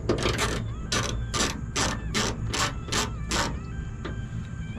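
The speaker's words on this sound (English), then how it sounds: "So we are gonna take this bottom nut off." A ratchet wrench clicks in quick, even bursts, about eight crisp strokes in a row, as it backs off the bottom nut on a ditch light bracket of a Toyota Sequoia or Tundra. It sounds close and steady, with no talking.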